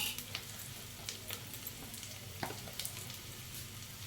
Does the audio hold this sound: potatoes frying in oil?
yes